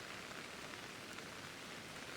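Rain falling in Pokémon Legends: Arceus, a soft, even hiss of steady rainfall, faint and continuous with no other sounds or voices.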